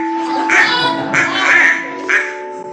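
A performer's voice imitates a pet duck, giving a run of four loud, nasal quacks close up with short gaps between them.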